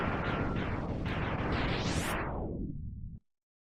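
A long, loud explosion in a Mega Man X game roars with dense crackling bursts and rising sweeps for about three seconds, then fades briefly and cuts off abruptly.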